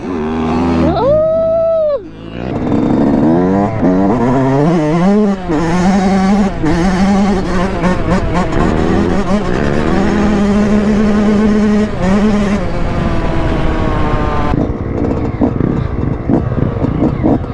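Dirt bikes racing, their engines revving loudly with rising and falling pitch sweeps, close by and continuous throughout, with a brief higher whine near the start.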